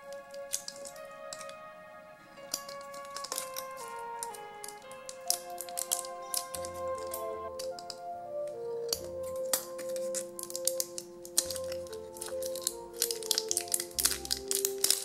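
Scissors snip and crinkle through a plastic label on an S.H. Figuarts figure box, a run of sharp clicks and rustles that grow denser toward the end.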